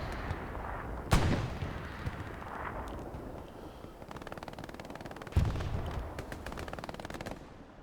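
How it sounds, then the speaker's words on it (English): Machine guns fire in the Hell Let Loose battlefield, two heavy booming blasts over rapid rattling bursts and scattered gunshots, some near, some distant. "These 2 MGs are doing a lot of work on this west edge"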